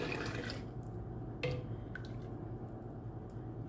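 Warm homemade yogurt mixture ladled into glass jars, soft liquid pours and drips with a light clink near the middle, quiet and close with no talking.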